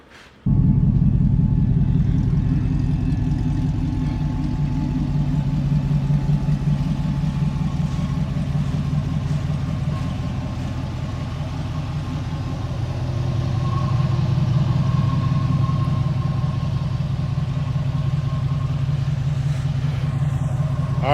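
A Chevrolet Malibu engine starts and then runs steadily, a low close rumble that holds even for about twenty seconds with a slight dip and rise in the middle.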